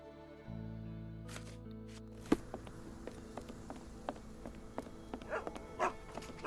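Dogs in the video game Sherlock Holmes The Awakened give faint scattered barks and small noises over a low ambient drone, with no talk.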